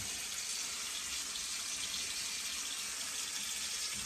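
Steady rushing water like a running tap, a continuous even hiss that stays level throughout with no voices.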